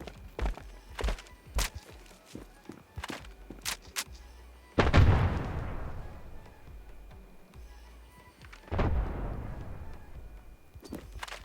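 Several sharp, suppressed gunshots from a silenced M4A1 rifle in the video game Standoff 2 crack in quick succession, with two heavier booming blasts that ring out and fade, amid light clicks and footsteps.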